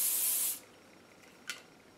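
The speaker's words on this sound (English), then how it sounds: "Hairspray." One short, loud hiss of hairspray misted onto a pinned-up bandana hairstyle, stopping abruptly, followed by near silence and a faint brief rustle.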